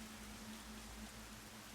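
Steady rainfall in the detective game Master Detective Archives: Rain Code, a soft continuous patter with a faint low hum underneath and no voices.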